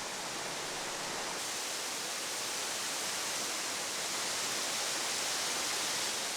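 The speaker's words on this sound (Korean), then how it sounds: "12개의 폭포를 품은 절경으로 유명하다." Waterfall at Naeyeonsan in Pohang, a broad, steady roar of falling water, loud and unbroken throughout with no voices.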